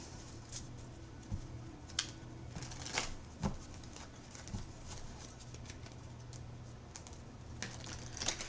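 Soft, intermittent riffling and tapping of tarot cards being shuffled, quiet crisp bursts spread across several seconds over a faint low hum.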